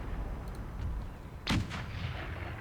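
Artillery in an Empire Total War battle, one sharp booming cannon shot near the middle over a low battlefield rumble, a couple of fainter distant reports before it.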